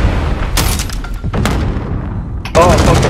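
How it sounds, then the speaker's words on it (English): Grenade blast in the shooter Call of Duty MW, part of a noisy firefight with bursts of gunfire and thuds, ending in a loud, close explosion near the end. "the grenade's getting me"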